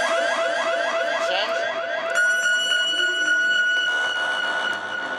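Reggae sound system effects unit producing a modulated electronic siren, rapid repeating upward sweeps that shift into a steady high tone with echoing delay, loud and continuous with no voice over it.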